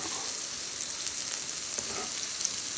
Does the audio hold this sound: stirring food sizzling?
yes